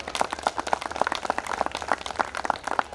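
Audience at a school annual day celebration clapping steadily, a continuous patter of many hands at moderate distance with a fairly even rhythm throughout.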